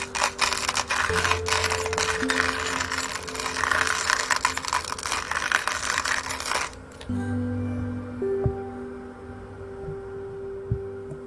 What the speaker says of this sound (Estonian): Kohviveski.